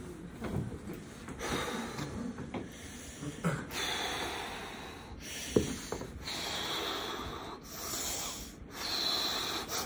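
A man breathes heavily in quiet, repeated nasal inhales and exhales with occasional snort-like puffs, close but faint, and no talking.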